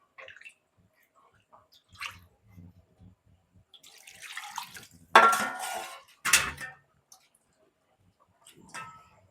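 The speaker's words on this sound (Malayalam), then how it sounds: "ഇനിയാണിപ്പം വെള്ളം ഒഴിച്ചിട്ട് പിഴിയേണ്ടത്." Water is poured over grated coconut in a bowl and squeezed by hand for coconut milk, giving sparse wet splashes and a couple of louder sloshing bursts amid clinking dishes, with no talk.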